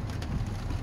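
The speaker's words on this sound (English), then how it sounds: "yesterday it was drizzling, today it's pouring" Heavy rain pours steadily near Portland, a dense, even wash of noise close by with no talk.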